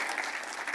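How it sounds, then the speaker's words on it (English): Brief burst of audience applause at a Cinema 4D R21 launch presentation, steady and fairly distant, with no voices over it. "So normally this is the time where people clap"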